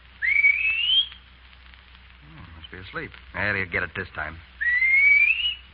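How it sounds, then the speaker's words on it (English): A man whistles a rising two-note call to summon a horse, sharp and close, then speaks briefly before whistling the same call again, with no answer between. "He always answers when I whistle to him."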